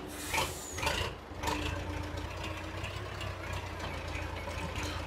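An old, well-worn tractor idles in Farming Simulator 22, giving a steady low engine rumble and hum throughout with a few light knocks near the start.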